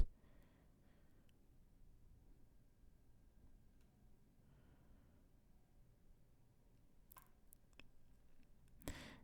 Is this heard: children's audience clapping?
no